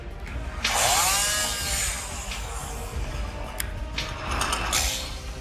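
Chainsaw at work on a tree, a steady mechanical whine under broadband noise, surging louder near the start and again near the end as the cut bites, with no talk.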